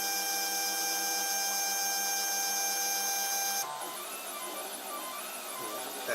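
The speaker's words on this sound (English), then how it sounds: "here comes the nozzle coming down to resume printing from where it left off" 3D printer during a pause test, its nozzle lowering and resuming printing: a steady whine with stepper tones gives way to a busier, warbling motor pattern as printing picks back up, close and alone.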